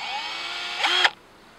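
Power drill driving a screw into a wooden rail for a beehive setup, a steady high whine that rises briefly in pitch and load before cutting off abruptly, close and loud, no voices.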